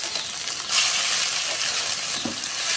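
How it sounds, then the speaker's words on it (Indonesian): Ground spice paste hits hot oil in a wok and sizzles steadily while a spatula stirs it, a bright continuous frying hiss with a brief scrape, close and alone. "Setelah ini kita akan masukkan bumbu yang sudah tadi kita haluskan."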